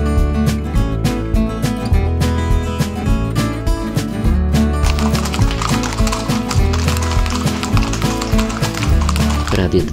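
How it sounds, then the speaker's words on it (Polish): Horses carry riders on a steep mountain trail in Colombia, with rhythmic hooves clopping steadily and loudly throughout and occasional snorts or whinnies in between. "Prawie dwugodzinna trasa pokonywana konno jest trudna zarówno dla koni, jak i dla ludzi."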